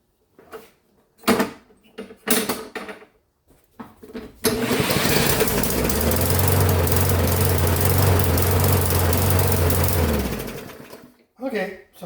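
Small lawn mower engine with a suspected misfire turning over and running, a steady loud drone that holds for several seconds and then winds down, with brief talk and handling noises before and after.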